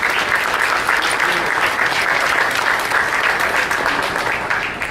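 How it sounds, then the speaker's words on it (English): A large audience at a forum applauds itself, producing a continuous, dense wash of clapping at steady loudness that begins to fade only at the very end. "So give yourselves a round of applause"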